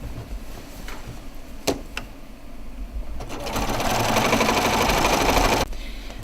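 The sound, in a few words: sewing machine stitching quilt binding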